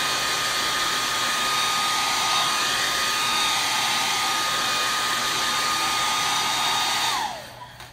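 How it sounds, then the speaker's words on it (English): A hair dryer blows steadily with a loud, even whoosh, then shuts off near the end and the airflow winds down. "I'm just going to dry it for a second with my hair dryer."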